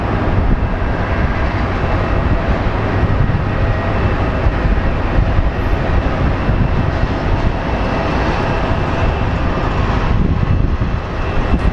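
American Airlines jet at Phoenix Sky Harbor airport, a loud, steady broadband engine roar that holds constant throughout with no talking.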